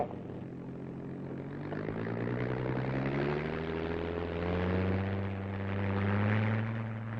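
A Spitfire fighter's piston engine runs up for takeoff, a deep droning roar whose pitch climbs steadily as power builds, heard from a moderate distance and fairly quiet throughout.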